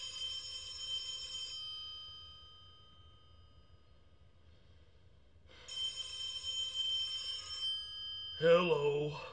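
A telephone bell rings twice as a radio comedy sound effect, each ring a long electric trill, followed by a brief voice at the end.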